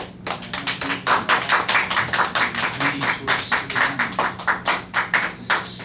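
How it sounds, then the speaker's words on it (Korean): A church congregation gives rhythmic, steady applause to the worship team at a Sunday service, claps landing in an even beat, close and moderately loud, with no talking. "격려의 박수 좀 줬으면 좋겠어요"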